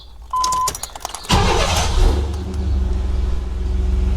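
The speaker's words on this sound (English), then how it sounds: "I'm gonna turn the truck on" A Chevy truck engine cranks and catches after a few short clicks and a brief tone, then settles into a steady, loud idle rumble close by.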